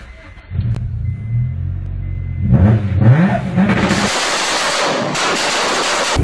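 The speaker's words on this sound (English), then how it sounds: "I told her to step on the gas and she got on it" A 2005 SRT-4 engine idles low, then revs hard and roars louder, followed by a burst of loud broadband noise, close by.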